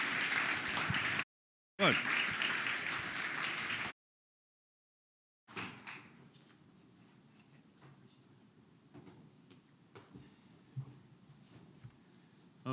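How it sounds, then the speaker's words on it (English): A conference audience at an aviation and robotics general session gives a warm round of applause, loud clapping in two bursts broken by gaps, then fading into quiet room murmur with a brief spoken word. "please give a warm round of applause to Christina,"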